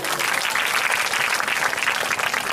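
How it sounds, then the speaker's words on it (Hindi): Audience applause fills a hall during a Hindi and English sermon, a dense, steady wash of many hands clapping at even loudness for the whole stretch. "ताली बजाइए"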